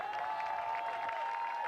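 A stadium crowd applauds and cheers a 5,000-meter run champion at the 2023 Summit League Outdoor Track and Field Championships, a steady wash of distant clapping lasting under two seconds.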